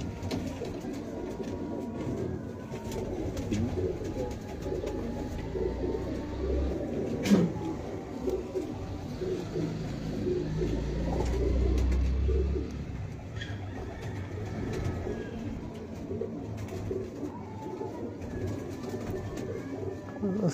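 A loft of pedigree show pigeons coos steadily in a dense, low burbling chorus, with a few soft thumps and a louder patch partway through.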